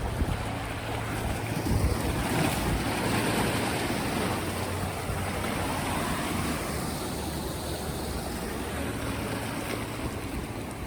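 Ocean waves washing onto a shore on a coastal hike, a continuous loud rushing surf with swelling surges, mixed with wind buffeting the microphone and no speech.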